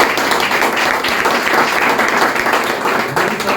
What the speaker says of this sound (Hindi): सबसे पहले प्रीतम जी के लिए जोरदार तालियां